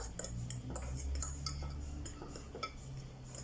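Yeast being stirred into a mixture for chicken paratha dough, a spoon clinking and scraping against the bowl in quick, uneven taps over a low steady hum, close and moderately quiet.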